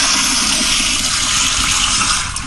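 Loud, steady rush of water from a home power-flush toilet, a continuous broadband gush filling the whole clip without pause, close by and alone with no talk.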